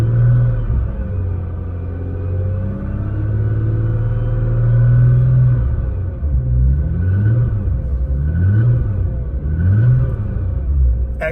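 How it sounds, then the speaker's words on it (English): A 1000 HP built Nissan GT-R engine, half warmed up, idling with a deep steady rumble and then blipped through several quick revs that rise and fall, with faint piston noise on the throttle. "you may hear a little bit of piston noise on revving up"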